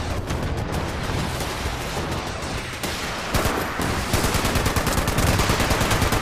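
A machine gun in the video game Fallout 76 fires in long continuous bursts, loud, rapid and close, growing denser toward the end with no talk over it.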